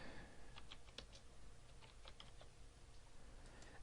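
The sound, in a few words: typing a search topic on a computer keyboard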